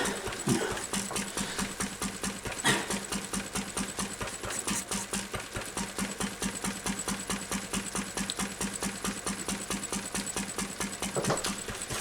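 Lister D stationary engine driving a lighting plant, running steadily with a fast, even chuffing and knocking beat, loud and close, with no voices over it.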